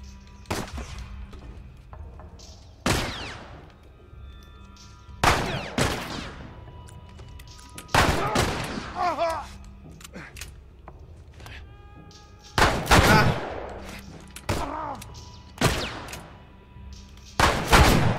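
Heavy gunshots in The Last of Us video game, spaced single blasts and short bursts ringing out loud and close, with quieter stretches between them and no talking.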